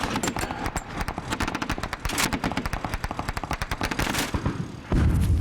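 Gunfire in an Afghanistan firefight as 2 Scots Mastiff vehicles join in with fire support: dense, rapid bursts of shots, near and loud, continuing without pause before a heavier rumble at the end.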